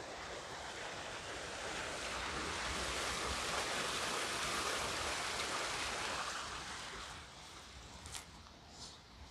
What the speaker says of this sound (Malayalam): ഇവിടെ നല്ല വെള്ളച്ചാട്ടമൊക്കെ ഉണ്ടല്ലോ.